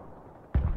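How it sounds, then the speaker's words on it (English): Artillery fire in the video game Broken Arrow: one sudden heavy boom after half a second of low rumble, followed by a loud rolling low-end roar that stays close and fills the rest. "Yeah, I got artillery firing as well on it."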